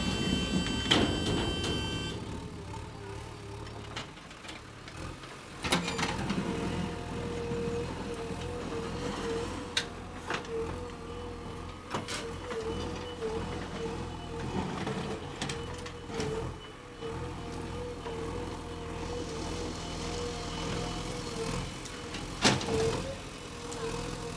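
A JCB pushes a tipper truck stuck in loose road mix; a steady low engine rumble runs throughout, with occasional clanks and knocks and a brief mechanical whine near the start.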